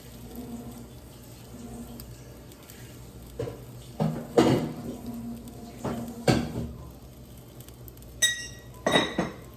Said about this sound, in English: So I'm going to rinse off this plate.